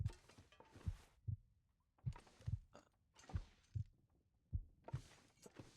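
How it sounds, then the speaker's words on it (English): Steady heartbeat from The Long Dark survival game, a repeated double thump with a brief gap between pairs, loud and close, with no talk over it. "Why is my heart beating?"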